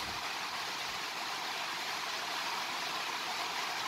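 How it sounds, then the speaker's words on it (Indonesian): Heavy rain pours outside an indoor badminton court, a dense, even, loud hiss that continues without a break. "Kalian bisa dengar derasnya hujan yang di luar ya, bunyinya kan masuk ke kamera."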